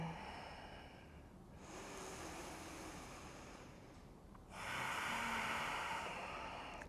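Slow, deep breathing during a gentle yoga practice, a long soft inhale then a fuller, louder exhale of airy hiss, close and quiet with no talking.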